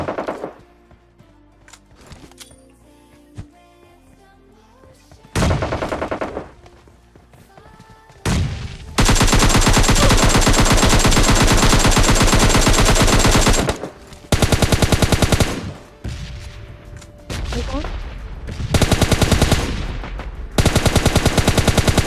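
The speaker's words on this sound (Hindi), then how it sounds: "फायरिंग की आवाज आ गई होगी, मतलब सामने वेयर हाउस में बंदे हैं" Loud, sustained automatic gunfire in a battle royale game, with rapid bursts erupting around a warehouse ahead, long dense volleys alternating with short pauses and a few scattered single shots.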